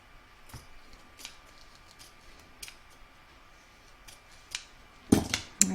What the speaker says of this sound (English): I'm just going to trim this little bit off here just so that it doesn't get in my way.